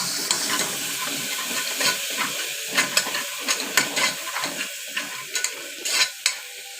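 Spiced masala with yogurt sautéing in a pan: a soft frying hiss under repeated scraping and stirring strokes from a spoon, close and irregular, with no voices.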